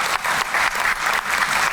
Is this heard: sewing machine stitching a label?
no